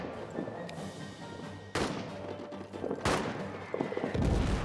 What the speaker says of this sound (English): here come the artillery